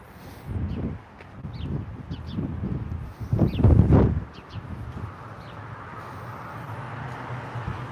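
Outdoor wind gusts and buffets against the microphone, building to a louder rumbling burst midway before settling into a steady, softer rush, with faint chirps of birds far off.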